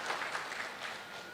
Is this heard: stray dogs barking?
no